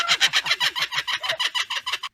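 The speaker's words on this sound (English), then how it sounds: "I think you mean a kookaburra." Kookaburra giving its laughing call, a rapid run of loud, harsh cackling notes repeated about a dozen times in a steady rhythm close by, alone without talk.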